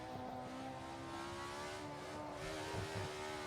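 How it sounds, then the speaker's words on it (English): Race car at full throttle lapping the Nürburgring circuit, a steady loud engine drone with strong harmonics that rises slightly in pitch toward the end, close and continuous with no talk. "you're wrestling the car around the circuit."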